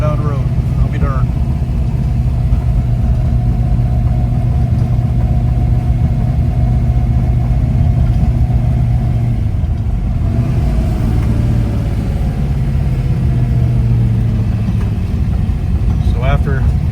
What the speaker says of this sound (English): Steering wheel even rides straight while we're going down the road.